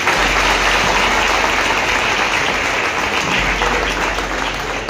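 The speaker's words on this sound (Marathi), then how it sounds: "जरा टाळ्या वाजवा सगळे" A large audience at a political party-joining event applauds loudly and continuously, a dense, steady wash of clapping from start to finish.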